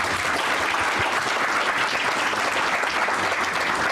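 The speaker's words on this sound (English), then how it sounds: "How about another round of applause for our speakers today?" An audience at a roundtable on lead in drinking water gives speakers a round of applause, even and continuous throughout, moderately loud with a faint murmur beneath the clapping.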